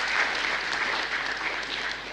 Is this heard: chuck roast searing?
no